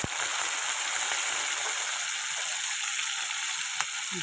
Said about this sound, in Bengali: এবার দিয়ে দিচ্ছি এই যে মাছের তেলটা